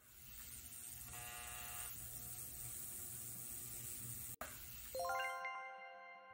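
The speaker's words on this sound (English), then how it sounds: "Go to the ultrasonic cleaner." An ultrasonic cleaner in the toy-restoration game Toy Tinker Simulator hums and buzzes steadily, broken by one brief click before a bright chiming jingle closes it out.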